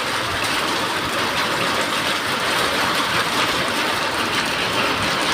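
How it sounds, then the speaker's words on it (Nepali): Heavy rain with hail during a thunderstorm forms a loud, unbroken broadband roar of pouring water that holds steady throughout, with no voices. "बिजुली चम्केर पानी परिरहेको असिना झरिरहेको"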